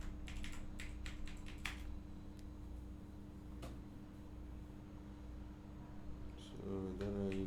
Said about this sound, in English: Let me type the password here.